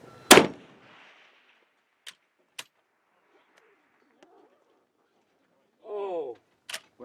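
A single sharp rifle shot from a K-31 Swiss rifle fired with iron sights at long range, a loud crack at the start, then a couple of faint distant impact-like pops, with brief talk near the end.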